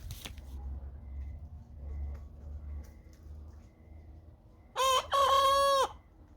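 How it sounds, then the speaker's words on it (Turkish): A young rooster of a purebred breed crows once, loud and close, after a stretch of low farmyard rumble and faint rustling. "İşte kıçkırıp başladı."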